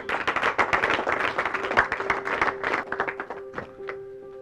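A school audience claps for a debate student, with a crowd of hands applauding loudly and continuously, then thinning out and fading toward the end.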